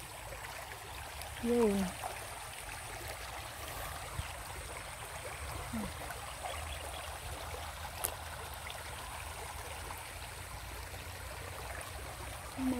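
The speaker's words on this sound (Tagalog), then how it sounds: "ito yung agos ng ilog po" A flowing countryside river rushes in a steady, soft wash of water noise, with a few brief spoken words over it.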